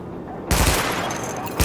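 A weapon test in Tom Clancy's The Division, where a short, loud burst of automatic gunfire starts suddenly after a quiet moment and then rattles on, with a second hit near the end.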